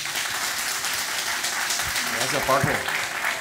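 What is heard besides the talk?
audience applause welcoming speaker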